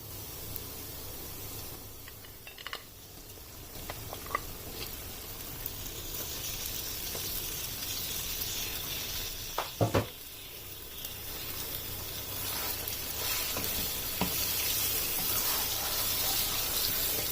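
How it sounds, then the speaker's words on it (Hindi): Steady oil sizzle and frying hiss from mutton in a hot pan with ginger paste for karahi, continuous throughout, with a few soft clinks and stirring scrapes along the way. "अब मटन को इसमें अच्छी तरह से भून लेना है।"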